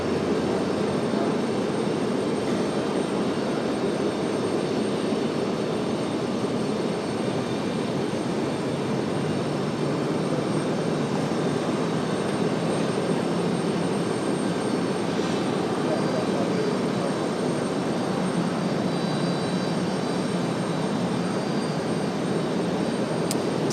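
An American Airlines Airbus A321 departing Raleigh-Durham for Charlotte makes a continuous, even jet roar that stays at a constant level for the whole stretch.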